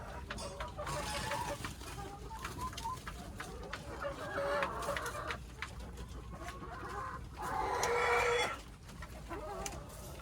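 Chickens cluck and squawk continuously in a busy coop, with one louder drawn-out call near the end, amid steady farmyard background noise.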